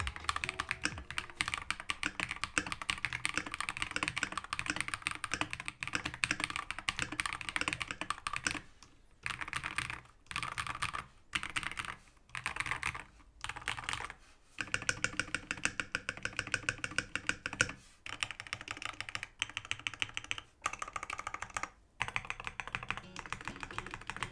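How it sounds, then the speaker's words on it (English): Typing on a prebuilt mechanical keyboard: rapid, dense clacking keystrokes in continuous bursts, broken by several short pauses, close and fairly quiet with no voices. "Here is a sound test of this board as well."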